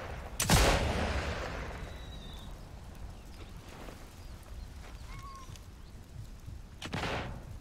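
Machine gun fire in the World War II shooter Sniper Elite 5, a loud close burst at the start, then quieter distant rattles and a second burst near the end over a low outdoor rumble.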